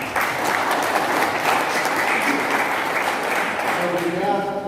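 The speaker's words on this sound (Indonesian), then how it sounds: "Kita kasih tepuk tangan." A church congregation gathered at a Baptist church ceremony applauds, a continuous even roar of many hands clapping throughout, with a voice beginning to speak as it ends.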